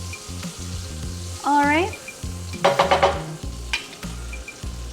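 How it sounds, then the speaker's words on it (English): Butter and garlic sizzle in a skillet, a steady frying hiss beneath soft utensil clatter and a brief voice, with a few sharper bursts midway as the pan crackles. "I'm just gonna add the butter or garlic really quick to our skillet here."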